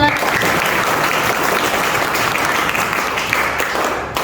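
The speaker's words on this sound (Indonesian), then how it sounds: "Oke, tepuk tangan buat 9." A classroom of students bursts into loud, sustained applause, many hands clapping together in a thick, even wash that holds for several seconds before tapering slightly at the end.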